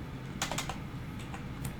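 Quick light keystrokes on a computer keyboard while writing Swift code comments, a few soft clicks in a short cluster over faint room hiss, close and quiet with no talking.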